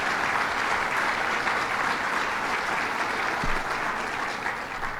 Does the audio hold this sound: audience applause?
yes